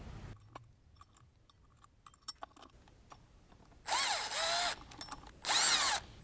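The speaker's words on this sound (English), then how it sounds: "Install the bolts through the cutouts in the pulley, then tighten them evenly." A power tool tightens bolts through a pulley on the mid-mount accessory drive of a 1951 Studebaker engine, sounding as three short, loud whirring bursts after a stretch of faint clicks and handling noise.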